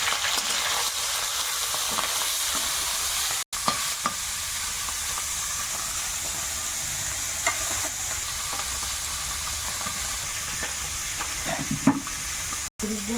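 Parshe fish fry in a pan with a continuous bright sizzle and crackle, close and steady, broken by a couple of brief dropouts and occasional stirring clatter.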